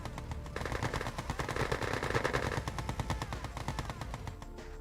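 Gatling tanks in a Yuri's Revenge 2v2 real-time strategy match fire a rapid, continuous rattling stream of game gunfire that is loud and dense and keeps going from start to finish.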